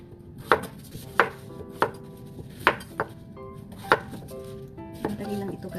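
A knife chops squash and string beans on a board in a home kitchen, about eight sharp, evenly spaced thuds with a few lighter taps near the end, close and clear with no talk.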